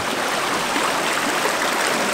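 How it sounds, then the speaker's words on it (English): A stream rushes steadily and loudly close by while fresh water is collected from it on a winter camping trip in bear country. The broad, even wash of flowing water is heard alone, with no talking. "less than 3 kilometers left just filling up uh, some fresh water"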